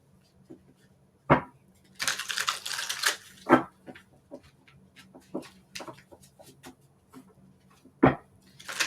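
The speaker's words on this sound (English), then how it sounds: "I like to shuffle on camera so nobody can accuse me of stacking the deck." Light Seers tarot cards shuffled by hand, giving soft papery riffles and a longer burst of flicking in the middle, broken by a few sharp taps as the deck is squared, all close and fairly quiet.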